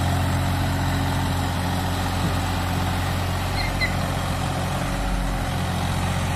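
A Swaraj 744 FE tractor, hitched to a trolley loaded with potato sacks, idles with a steady, low diesel rumble that holds evenly from start to finish at close range.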